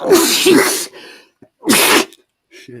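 Two loud, close sneezes from a person, the first a sharp double burst and the second a single explosive one a second later, with brief muttered speech between and after them.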